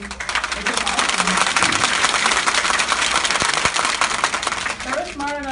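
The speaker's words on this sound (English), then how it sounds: "give a round of applause for, you know, Margo and everybody that set this up" An audience applauds for the event organizers at a stand-up comedy show, a dense, loud, sustained wash of clapping that fades near the end as a voice starts speaking over it.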